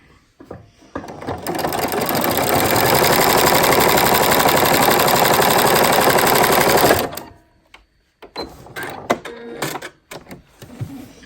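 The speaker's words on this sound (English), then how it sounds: "and do a second row of stitching there." Sewing machine running steadily for about six seconds while stitching a row across a denim quilt block from edge to edge, loud and close, then stopping, with a few softer handling clicks and bumps afterward.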